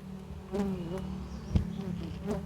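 A colony of Biroi and Leviceps bees hums in a low, steady buzz, with a few insects droning close by and a brief knock partway through.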